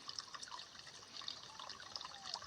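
Water trickles and splashes into a container outdoors, a soft, continuous, fairly faint pouring with scattered bright drips throughout.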